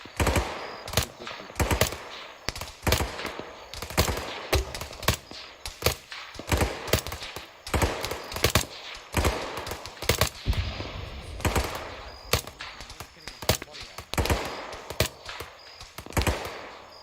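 Gunfire in Arma 3, rapid bursts of automatic rifle and machine-gun shots crackling in uneven clusters, sharp and fairly close, continuing throughout without talk.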